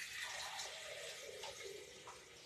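Water pours from a refrigerator dispenser into a cup while making Mexican corn potato soup, a steady close splashing stream that runs for a couple of seconds with no talking.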